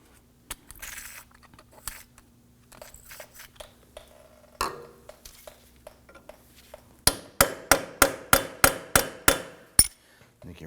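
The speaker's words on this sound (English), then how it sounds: "Now remember, I'm using a punch in the center here." A hammer strikes a punch against the axle of a 2008-2011 Ford Focus during front wheel hub and bearing replacement. Scattered metallic taps and clanks lead into about ten loud, evenly spaced ringing blows near the end.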